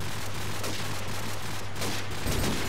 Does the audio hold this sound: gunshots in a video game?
yes